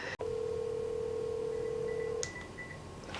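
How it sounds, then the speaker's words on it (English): A phone emits a steady electronic ringing tone that holds for about two seconds, then short higher beeps follow, clear and close in a quiet room. "Your phone just rang."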